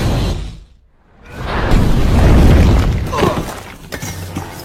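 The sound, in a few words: explosion in a film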